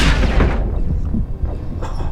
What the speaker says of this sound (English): A missile to the face and then nothing happened.